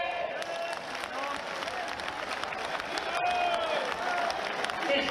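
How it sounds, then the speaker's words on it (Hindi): A large crowd claps during an outdoor Hindu unity march gathering in Vrindavan. Dense, continuous applause mixes with crowd murmur and some cheering, and it swells slightly toward the end. "यदि आपको अनुकूल हो तो ठीक से ताली बजाइए।"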